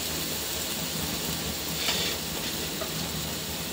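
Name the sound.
garlic frying in a pan with curry leaves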